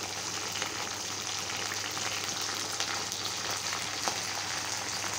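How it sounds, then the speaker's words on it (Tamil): Steady oil sizzle as chillies, mustard seeds and coriander fry for a crab soup, a continuous dense crackle and hiss with small pops, close and even throughout. "இப்போ எல்லாத்தையும் நல்லா வதக்கிக்கலாம்"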